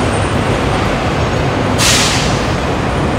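A truck overtakes a well-kept long-distance bus on the Palembang to Jakarta road, a steady loud roar of engine and road noise with a brief hiss-like surge as it passes close by.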